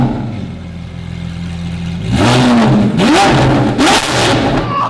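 A wrecked Lamborghini SVJ under rebuild idles, then its engine is blipped several times in quick, loud revs close by, with a smoky exhaust throwing flames.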